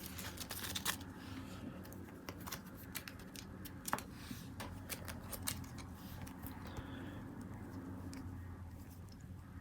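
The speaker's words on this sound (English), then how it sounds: "We'll shuffle the Invocation deck." A deck of Invocation cards being shuffled at close range, with quiet, quick riffling and a light patter of flicks and taps in irregular bursts, all faint and with no voices.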